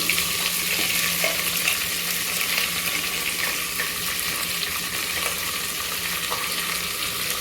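Green chillies and onions sizzling steadily in hot oil in a pan while making mutton biryani, a continuous close frying hiss with occasional faint stirring clinks, no talking.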